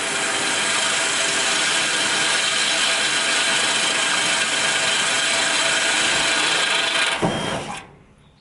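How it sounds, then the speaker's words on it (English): A drill runs continuously at a steady whir while pre-drilling bolt holes in lower wall siding, loud and close, then stops abruptly near the end, leaving quiet. "So I pre-drill them"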